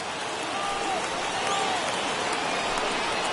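Large stadium crowd of more than 36,000 rising to its feet in the MLB The Show baseball video game, a steady broad roar of cheering that holds evenly for a few seconds with no talk over it.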